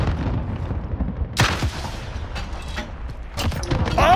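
A rocket launcher fires and explodes in a tunnel in Call of Duty: Modern Warfare. Two sharp blasts stand out over dense, continuous battle noise and rumbling, with another heavy burst near the end.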